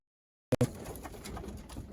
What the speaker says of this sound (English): which is a black and white pigeon